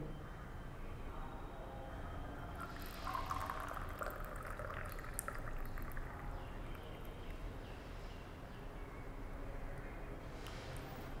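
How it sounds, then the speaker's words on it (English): Hot water pours steadily into a temperature-measuring instrument, a soft continuous trickle at low level with faint background noise, rising slightly mid-clip and then easing off. "I will pour this hot water in this instrument."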